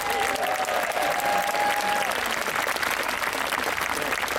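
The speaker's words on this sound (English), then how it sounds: "I think you should give him a big round of applause" An audience claps at an outdoor Battle of Bannockburn talk, a dense, steady round of applause from a sizeable crowd holding at an even level for several seconds, with a brief tone early on.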